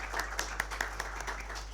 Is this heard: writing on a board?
no